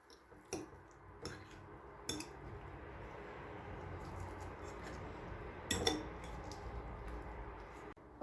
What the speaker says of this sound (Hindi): अब इन तमाम चीज़ों को अच्छे से मिक्स कर देंगे।